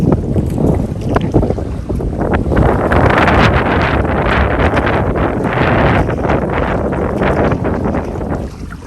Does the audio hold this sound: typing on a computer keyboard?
no